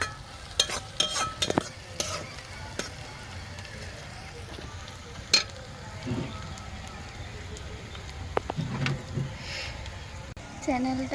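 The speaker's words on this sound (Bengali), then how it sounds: "মরিচ কাটা দিয়ে দিলাম। এটা হালকা লাল করে আমি ভেজে নেব।" Chopped chilies fry in a pan for a rohu fish curry, a soft steady sizzle punctuated by clinking stirring scrapes, while someone talks over it.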